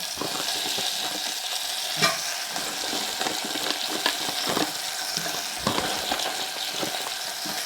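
Frozen spinach cooks down in a pan with shallots and garlic, giving a steady close sizzle with stirring scrapes and a few sharper clacks of utensil against the pan, and no talking.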